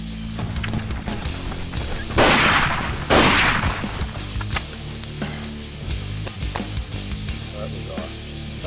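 Two loud rifle shots ring out close together on an African safari hunt for a large crocodile, sharp blasts with short decays amid outdoor ambience and some movement noise.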